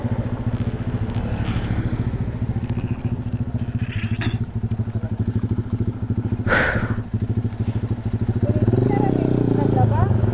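Motorcycle ride on a Philippine highway, with a steady close engine drone and road rumble throughout, rising slightly near the end, while a rider speaks briefly over it.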